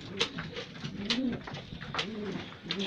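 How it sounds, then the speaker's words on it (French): Pigeons cooing in an aviary, a few soft rounded coos repeating about once a second, close and clear against quiet background rustle. "Les pigeons."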